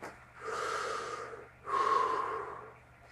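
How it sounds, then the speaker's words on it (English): Freediver breathing up before a dive while wearing a weight belt slung low below the hip bones: two long, steady breaths, each a loud airy rush, separated by a short pause. "So now when I breathe up"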